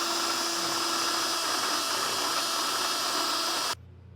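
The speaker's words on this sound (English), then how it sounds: "got a grinding bit, I'm going to just kind of take a little notch out of that so we can get our hardware passed through" A grinding bit notches metal on a Demco Premier Series above-bed base rail for fifth wheel hitch bolt hardware, a loud, steady high-pitched whine held for nearly four seconds before cutting off abruptly.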